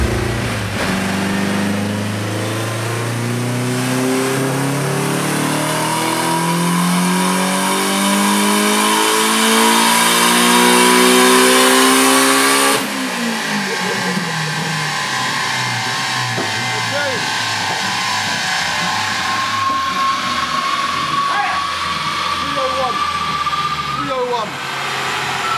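Turbocharged car engine on a dyno at 7 psi of boost, loud and sustained as revs climb steadily, peak, then drop and rise again with whooshing turbo and exhaust roar throughout, a voice talking faintly underneath.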